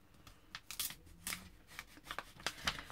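Paper mail envelope being torn and opened by hand, a series of close, crisp ripping and rustling bursts in an uneven rhythm, fairly quiet, with no talking.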